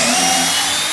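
A power drill runs steadily at high speed for about a second, driving a screw into a pocket hole on a clamped butcherblock countertop, loud and close.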